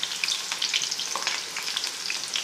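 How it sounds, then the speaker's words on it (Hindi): Chopped onions frying in ghee for a dhaba-style chana dal tadka, giving a steady, dense crackling sizzle close up with no talking. "तकरीबन आध पाव के करीब घी ले लिया है और ये जो प्याज हमने काटी थी तड़के के लिए वो इसमें शामिल कर देंगे।"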